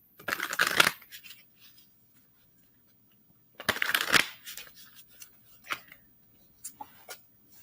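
Tarot cards shuffled by hand, two close bursts of riffling separated by a pause, followed by a few soft taps and slides of cards, with no speech.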